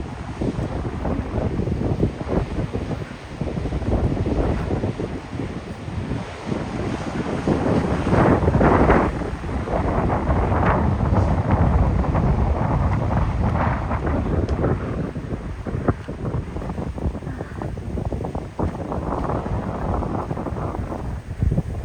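Strong wind buffets the microphone on a rocky seashore at Kita Nagano Coast National Park, a continuous loud rumbling roar with gusty surges, and surf washing faintly beneath, no voices.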